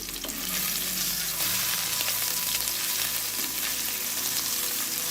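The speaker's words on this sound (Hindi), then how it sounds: "इसके लिए मैंने कढ़ाई में 2 चम्मच ऑयल डालकर इसे अच्छे से गर्म किया है। अब हम इसमें शामिल करेंगे अदरक लहसुन का पेस्ट, और इसे 1 मिनट तक भूनेंगे।" Ginger garlic paste frying in hot oil in a kadai, a steady close sizzle with occasional scraping stirs, continuous and fairly loud with no voices.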